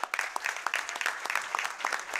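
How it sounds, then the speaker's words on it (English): Audience applause at a borough council meeting in Roselle Park, a brief round of scattered, fairly sparse individual claps at moderate distance, with no talking. "One more round of applause for these guys."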